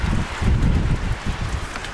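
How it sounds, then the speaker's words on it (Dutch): Heavy wind buffets the microphone in gusty, low rumbling bursts, with a steady wash of rain-like noise underneath; no one speaks. "Het waait ook echt keihard. Het is aan het regenen."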